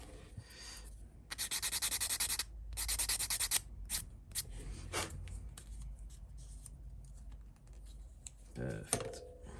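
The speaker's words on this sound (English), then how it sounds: "I did have a sanding stick, there it is," A sanding stick rubs along the edges of clear glass parts for a 1/12 scale Fiat Abarth model car, giving short bursts of close, dry scratching with pauses and light handling noises between.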